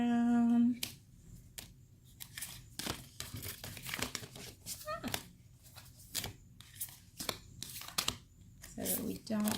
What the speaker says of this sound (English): This is how I shuffle my cards.